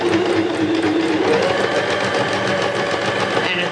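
A Stirling sewing machine runs steadily on a normal straight stitch, a continuous close mechanical whir with a fast rhythmic chatter, loud and unbroken throughout with no talking.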